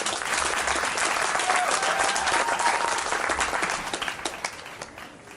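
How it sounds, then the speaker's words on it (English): Dense audience applause at a music fair, steady and full for about four seconds before thinning into scattered claps as it fades. "Round of applause for everybody working here."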